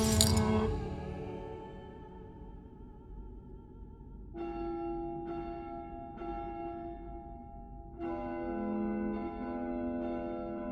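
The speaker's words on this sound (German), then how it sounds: "Ich habe das Läuten der großen Glocke gehört." A great church bell tolls in House of Da Vinci 3, a deep resonant peal ringing out repeatedly with long sustained overtones, struck in slow succession and building into overlapping chimes, loud and alone.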